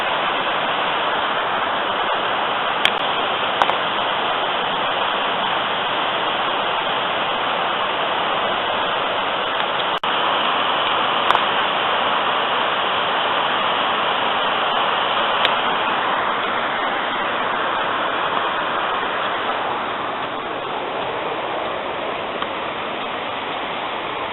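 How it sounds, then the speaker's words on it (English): Continuous, full rushing roar of a waterfall heard close up on a walk near Ffestiniog in Wales, steady white-noise spray throughout with a few faint clicks, and no voices. "Yes, that's quite an impressive waterfall as well."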